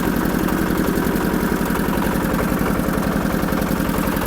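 A DW 160 walk-behind motor tractor engine runs steadily and loud up close, with a fast, even chugging pulse throughout and no talk.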